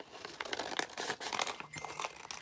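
Scissors cut across a patterned paper bag, giving quiet, close crinkling and snipping crackles in an irregular rhythm, with no one talking.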